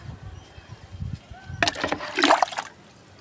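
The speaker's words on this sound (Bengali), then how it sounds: "এইভাবে জলটা দিতে পারলে না গাছের পাতাগুলোও বেশ একটু ঠান্ডা হয়" Water poured onto garden plants splashes and patters on leaves in a few short bursts, close and moderately loud, after quieter rustling.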